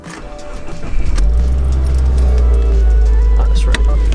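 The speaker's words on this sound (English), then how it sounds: "I'm also gonna give you guys, some sound clips and whatnot as to, how my car kind of sounds right now" Subaru WRX with a faulty MAP sensor, its engine running at a steady low idle close by, accompanied by a brief jingle of keys and light handling noises.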